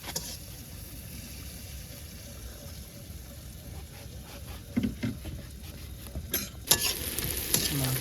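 Onions fry in a pan with a steady, close sizzle and a few louder bursts of stirring and spattering toward the end.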